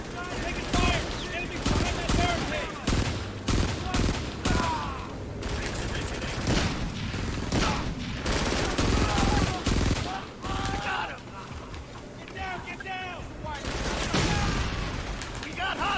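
Rapid automatic gunfire rattles loudly in the war shooter Frontlines: Fuel of War, with dense bursts, reloads and mechanical clatter layered continuously.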